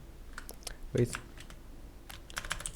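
Computer keyboard keys tapped while typing commands into Command Prompt, giving a scattered run of light, sharp clicks with uneven gaps and one heavier press near the middle.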